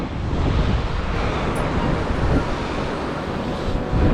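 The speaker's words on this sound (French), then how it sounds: "Vous voyez, il y a beaucoup de vagues." Steady, loud roar of rough sea waves surging around an abandoned boat, a continuous broadband wash with gusty wind buffeting the microphone and no talking.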